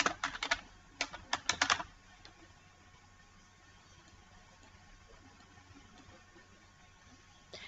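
Typing on a computer keyboard while entering an author name in Microsoft Word makes a quick burst of close, crisp key clicks in the first two seconds, then a faint room hum.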